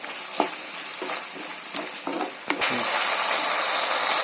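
Tomato ketchup is stirred into frying gobi manchurian in a pan, with spoon scrapes at intervals over a sizzle that swells into a loud, steady hiss partway through.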